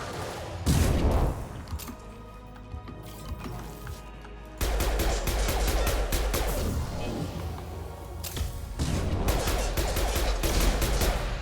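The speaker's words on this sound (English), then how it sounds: "There's a Gatling gun." Rapid Gatling gun fire in the video game Mass Effect 2, loud sustained bursts of automatic shots that stop briefly and then resume, layered with heavy low rumble and booms.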